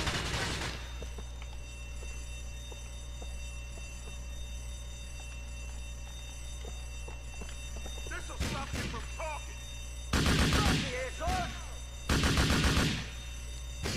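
Gunfire in Grand Theft Auto IV, with one sharp shot near the start and then two loud, dense bursts of rapid shots late in the clip over a steady low game hum.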